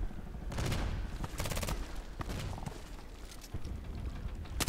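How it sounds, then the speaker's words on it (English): Enemy gunfire in the online shooter Contract Wars comes as rapid bursts of automatic shots, dense and sharp, spread across a few seconds with short pauses between volleys and a steady low rumble beneath. "He's shooting at me."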